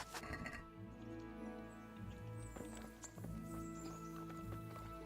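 A horse in the medieval role-playing game Kingdom Come: Deliverance shifts about with soft hoof clops, snorts and the clink of tack, quiet and close, layered over the game's faint ambient background.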